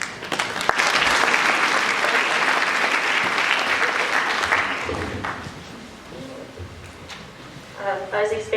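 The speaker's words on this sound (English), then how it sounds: "I was expecting a longer clap" Audience applause fills a school Founders' Day gathering, a dense burst of clapping that holds steady for several seconds, then thins out and fades as a speaker's voice begins near the end.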